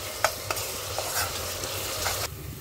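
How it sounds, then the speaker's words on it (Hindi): Chopped onions frying in hot oil for egg biryani, a steady close sizzle with a few sharp stirring clatters from a spoon against the pan, ending abruptly. "प्याज को हमें गोल्डन ब्राउन करना है"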